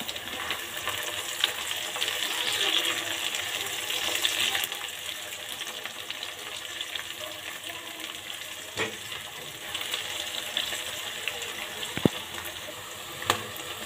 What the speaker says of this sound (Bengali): পেঁয়াজ আর মরিচটাকে হালকা করে ভেজে নিলাম।